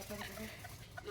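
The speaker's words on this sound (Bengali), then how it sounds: "আর এই যে মুরগি দৌড়াদৌড়ি করতেছে," Native village chickens cluck and call softly in a yard, short scattered clucks at a distance over a faint background murmur.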